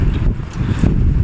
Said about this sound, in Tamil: பயங்கரமாக காற்று அடிக்குது.